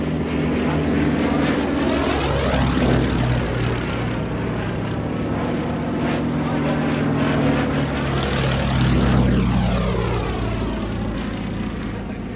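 A Westland Lysander propeller aircraft flies overhead, its loud continuous engine drone rising and falling in pitch as it passes close by, then comes around again.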